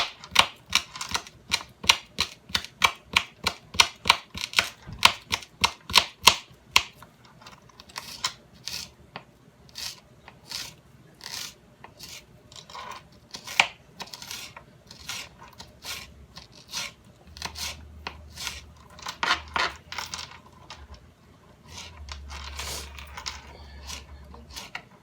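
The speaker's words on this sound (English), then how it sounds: "Over here using this regular knife." A regular kitchen knife chopping an onion on a board for tuna fish salad, a quick run of sharp, even taps at first, then slower, irregular cuts with low rumbles.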